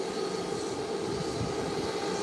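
An airplane at the Providenciales airport in the Turks and Caicos gives a continuous, steady engine hum and whine, moderately loud and unbroken, with no talking.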